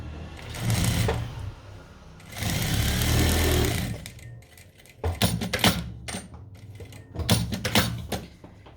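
A sewing machine stitching patchwork scraps into a mini quilt, running in loud whirring bursts separated by pauses, with small clicks and handling sounds between runs.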